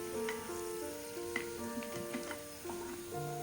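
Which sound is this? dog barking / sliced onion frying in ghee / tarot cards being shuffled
sliced onion frying in ghee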